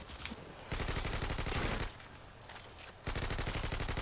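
Dense bursts of automatic gunfire from Call of Duty: Modern Warfare 2 multiplayer, two loud sustained volleys broken by a short quieter gap, rapid and close.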